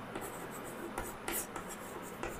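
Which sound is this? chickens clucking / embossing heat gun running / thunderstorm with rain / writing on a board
writing on a board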